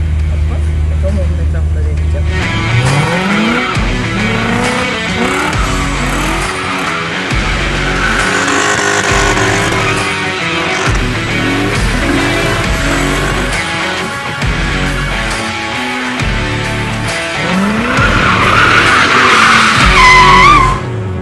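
During a drift training session, a car circles in wide donuts, tires screeching and skidding in loud repeated surges as the engine rises and falls, with someone talking over it throughout.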